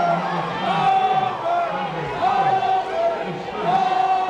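Gym crowd at a 1992 high school boys basketball district final reacting to a basket, a steady roar of cheers and voices swelling in waves, with a commentator talking over it.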